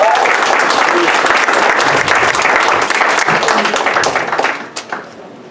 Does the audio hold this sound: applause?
yes